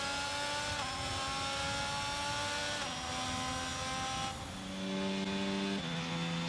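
Formula 1 race cars screaming past in the F1 22 game, a steady high-pitched engine whine with sharp gear-shift drops and a second car's tone joining near the end, loud and without talk.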